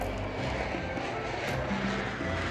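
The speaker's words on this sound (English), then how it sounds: "Oh, there is a plane!" An airplane drones steadily overhead, a continuous broadband engine rumble holding at even loudness throughout with no voices over it.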